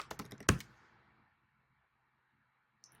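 A quick burst of computer keyboard typing, several rapid close keystrokes ending in one louder press, then near silence with a single faint click at the end.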